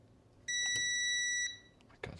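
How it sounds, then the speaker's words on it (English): An electronic board, an ESP microcontroller under test, gives a single loud, shrill, piercing beep lasting about a second, followed by faint clicks and a brief rustle. "Oh my god, that beeping scared me."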